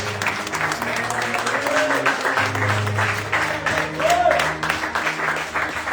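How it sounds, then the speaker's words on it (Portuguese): A church congregation applauds in praise during a worship service, with a steady mass of clapping mixed with murmuring voices and faint tonal sounds underneath, holding at a moderate level throughout. "Uma salva de palmas a Jesus."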